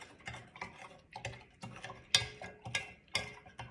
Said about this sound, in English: Try to mix in the baking soda and the liquid dish soap.